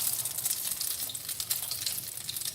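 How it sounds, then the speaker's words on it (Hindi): Shami kebabs coated in egg fry in oil in a pan, a dense, steady crackling sizzle that holds evenly from start to finish with no voices. "पैन में मैंने कबाब डाल दिए हैं।"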